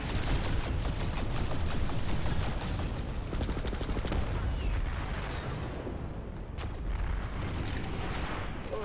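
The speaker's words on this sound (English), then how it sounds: "Fucking concussion grenades!" Concussion grenades burst amid heavy gunfire in a massive Planetside 2 battle with over a thousand players, a relentless barrage of rapid shots and booming blasts crowding together, loud and close, thinning slightly toward the end.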